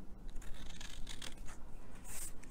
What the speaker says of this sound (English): we're going to cut these squares off right here